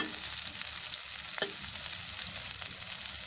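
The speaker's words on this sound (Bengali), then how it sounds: "এখন চিংড়ি মাছের বড়া বা পাকোড়াগুলো আস্তে আস্তে উল্টে নিতে হবে, যেন দুই পাশই সমানভাবে ভাজা হয়।" Shrimp fritters fry in hot oil over a medium-low flame, giving a steady, close bubbling sizzle throughout with one brief clink partway through; no voices.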